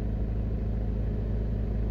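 Steady low rumble of a car driving through the Drax Hall area toward St. Ann's Bay in Jamaica, a constant road and engine drone from inside the vehicle with no breaks.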